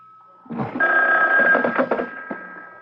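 A telephone bell rings loudly and steadily for about two seconds in an old-time radio drama, with no voices over it.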